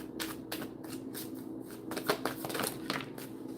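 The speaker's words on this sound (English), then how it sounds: "Even after all that shuffling." A deck of tarot cards is shuffled by hand close up, giving quick repeated riffling and flicking bursts with little talk.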